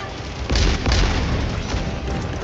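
Heavy explosions in Helldivers 2 during a fight against terminators: two deep, loud booms close together, each followed by a lingering low rumble, with no talk.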